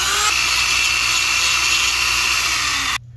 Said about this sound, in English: I'm going to clean it up a little bit with our Dremel.